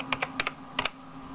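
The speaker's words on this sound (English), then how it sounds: "Okay, the keyboard does work." Keys are pressed on a computer keyboard attached to an old Windows XP PC, three quick pairs of crisp clicks with short pauses between them, close and clear in a quiet room.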